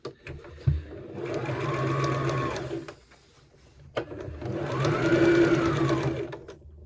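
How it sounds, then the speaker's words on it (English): A sewing machine stitches fabric for a tiered maxi skirt in two steady whirring runs, close and even, with a short pause and a click between them. "Needle down in the fabric, lift your presser foot, and turn your fabric again."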